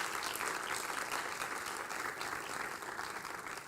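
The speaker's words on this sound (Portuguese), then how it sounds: "dá uma salva de palmas para os diáconos, por favor" Church congregation applauding deacons, a continuous even wash of clapping from many hands, moderately distant and steady for the whole stretch.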